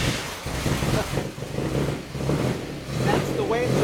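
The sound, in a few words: 1954 Corvette six-cylinder engine running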